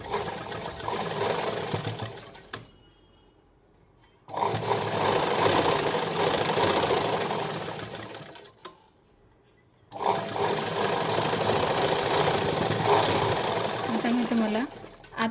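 A sewing machine stitches a blouse seam in three loud, steady bursts of rapid whirring separated by short pauses, with someone talking during the gaps.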